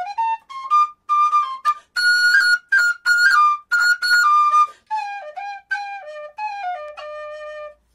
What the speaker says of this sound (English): You can do it on this is absolutely stock generation whistle in C.